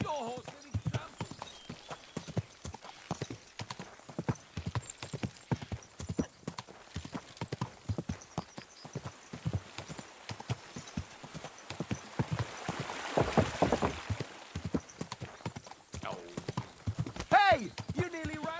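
Horse hooves clip-clop steadily in a video game, a quick continuous patter of footfalls with occasional neighing and voices talking over the scene.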